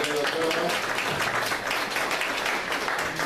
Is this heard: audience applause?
yes